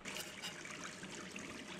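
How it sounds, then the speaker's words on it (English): Water runs steadily from a bathroom tap in the video game Gone Home, a continuous hissing trickle that holds at an even level throughout, with no voices over it. "I leave your water running"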